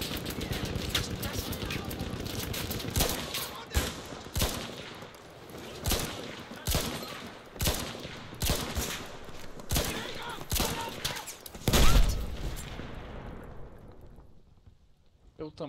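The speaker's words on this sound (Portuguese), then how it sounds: "Vou atirar nele então" Battlefield 1 gunfire crackles in a long series of sharp repeated bursts and loud shots, close and dense, with players talking over the fighting before it thins out near the end.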